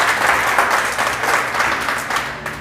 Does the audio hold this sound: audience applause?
yes